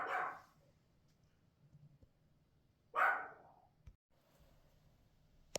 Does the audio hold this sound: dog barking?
yes